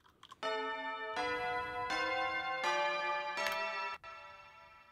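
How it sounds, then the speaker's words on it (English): Tubular bells struck in a series of about five sustained, ringing hits, each blooming into a long reverberant tail that overlaps the next, in a stereo percussion mix. "just a little bit more epic tail on those tubular bells"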